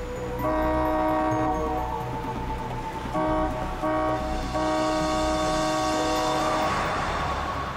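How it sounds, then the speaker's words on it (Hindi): A car horn blares close by on an empty road in three insistent blasts, one long, one short, then another long one, over a low road rumble. "हॉर्न पे हॉर्न मार रहा है"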